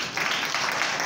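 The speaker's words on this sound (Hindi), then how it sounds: "ताली बजाओ उनके लिए।" A crowd of students at a government senior secondary school claps steadily, a dense, even wash of applause.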